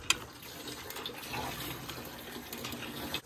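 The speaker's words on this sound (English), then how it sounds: "but the water's finally coming out" Water runs from a hand-pumped faucet in a camper setup at a water station in the cold, a steady close splashing stream into a container, with a sharp knock at the start and a clunk near the end.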